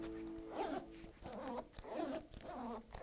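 A zipper on SCARPA Phantom boots is run up and down repeatedly, giving a close, quiet series of rasping zips in a steady back-and-forth rhythm.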